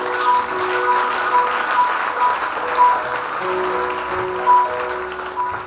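Church audience clapping and cheering to acclaim the Lord, sustained applause swelling in waves across the whole stretch, with tonal background sounds mixed in and no clear speech.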